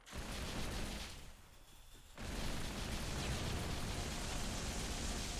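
A loud explosion in Halo, a dense roaring burst that drops briefly before a second heavy blast rumbles on at full strength.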